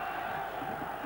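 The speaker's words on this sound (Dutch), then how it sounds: "het eerst horen we ook het Ajax publiek" Ajax football supporters cheer in a stadium in Tokyo at a World Cup match against Gremio, a brief steady roar of the crowd heard from a distance.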